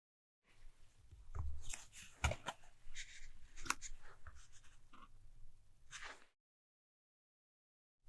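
Handling and shuffling a Magic: The Gathering commander deck of cards, close and crisp, with a steady run of papery riffles, slides and taps lasting about six seconds and no talking.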